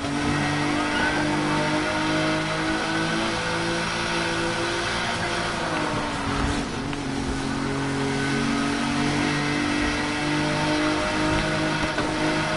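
Mazda RX7 engine racing through traffic in Need for Speed Heat, a loud continuous drone that holds steady throughout with a brief dip in pitch midway, with no talk over it.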